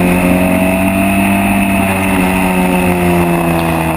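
A historic Formula Ford racing car at Silverstone drones loudly from onboard, its engine holding a steady, high, buzzing note throughout with no talk.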